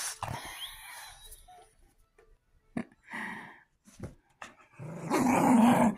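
A dog named Coco gives a low, rumbling growl in several separate stretches, close by, ending in a louder sustained growl.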